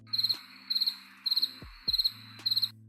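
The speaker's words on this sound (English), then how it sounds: "And all you heard were crickets." Crickets chirp in five evenly spaced bursts, each a quick high trill, with a low steady hum underneath.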